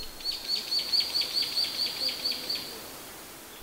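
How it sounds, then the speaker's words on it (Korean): A songbird repeats a thin, high chirp about ten times in an even rhythm, fairly faint against a quiet outdoor background. "산새의 지저귀는 소리에 온통 마음을 빼앗기는"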